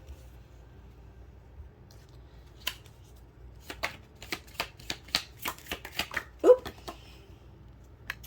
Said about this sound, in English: So I'm going to get one card from each deck